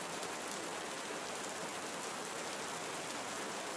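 Rain falls in a Costa Rican forest as a dense, even hiss of drops on leaves and ground. It is soft and steady and carries on without a break, with no voices.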